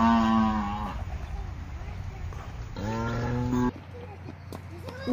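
A cow moos twice in long, drawn-out harmonic calls, the second rising at the end, over a rumbling, windy background with faint voices.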